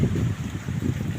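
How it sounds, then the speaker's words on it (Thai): Strong, cold wind gusting across the microphone in loud, uneven rumbling bursts that rise and fall for about a second, with no voices. "ลมแรงมาก"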